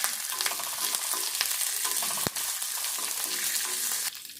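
Dried red chillies and curry leaves fry in a pan for a bendakaya masala karam, a dense, steady close sizzle with scraping stirs and one sharp clack partway through.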